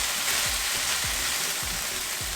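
Keema samosa filling of lamb mince with cinnamon and clove sizzles steadily in a pan, a close, even frying hiss with faint stirring scrapes at regular intervals, no voices.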